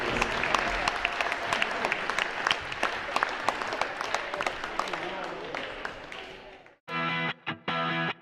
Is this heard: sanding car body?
no